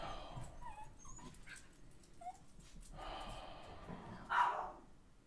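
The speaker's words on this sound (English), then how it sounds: "I feel like the dog's aggressively barking and attacking things right now" A dog barks, yips and whimpers in short uneven bursts, moderately close, with gaps of quiet between the outbursts.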